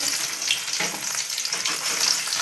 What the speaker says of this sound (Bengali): এই যে চারটে মাছ ভাজা হয়ে গেল